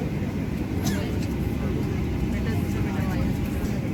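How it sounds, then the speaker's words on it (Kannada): Constant low hum of an airliner cabin while seated before takeoff on a Dubai to Mangalore flight, with faint cabin chatter and rustling beneath the steady drone. "ನಾವಿವಾಗ ಫ್ಲೈಟಲ್ಲಿ ಕೂತಿದ್ದೇವೆ"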